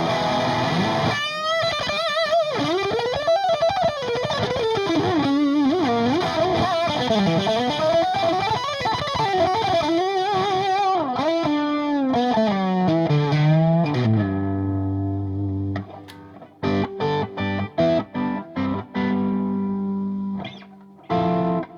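Electric guitar playing a distorted lead line with sustained, singing notes and bends, loud and continuous, then shorter choppy phrases near the end; effects add a slight chorus-like shimmer, no talking.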